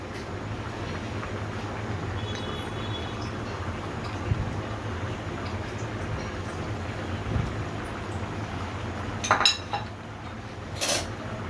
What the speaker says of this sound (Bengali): আবার একটু নেড়ে চেড়ে দিচ্ছি